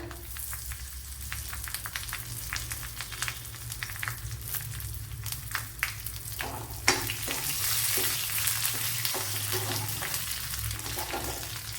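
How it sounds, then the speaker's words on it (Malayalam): Curry leaves sizzle and spit in hot oil alongside cut dried red chillies for a Kerala egg curry, a steady crackling fry that swells louder partway through, close and without talk. "കുറച്ച് കറി ലീവ്സ് ഇട്ട് കൊടുക്കാം"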